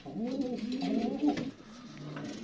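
Racer pigeons cooing up close in a low, throaty run of burbling coos, a pair of birds calling with no talk over them.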